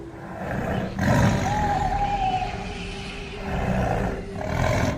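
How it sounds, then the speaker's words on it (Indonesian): A Sumatran tiger lets out deep, rumbling roars that swell and fade across about five seconds, loud and close in a forest setting, with a second surge of roaring near the end and no voices. "lalu terdengar suara auman yang begitu dalam hingga membuat jantungmu berdebar kencang"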